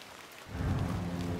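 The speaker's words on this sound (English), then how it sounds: "Ah, I love the rain effects." Rain and thunder effects in the video game The Excavation of Hob's Barrow: a steady hiss of falling rain joined halfway by a deep, swelling low rumble of thunder, close and continuous, with no talk.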